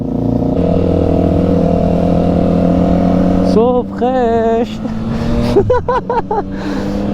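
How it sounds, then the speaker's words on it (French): A 2023 Yamaha MT-09 motorcycle engine, A2-restricted, hums steadily with a reverberant rumble inside a tunnel, then revs in rising bursts; someone speaks briefly over the engine noise. "entendre le bruit de la MT là, dans le tunnel"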